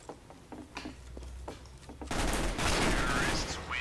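Gunfire in the online shooter CS:GO, a rapid burst of shots breaking out after a few faint earlier pops, loud and dense with a sustained crackle to the end.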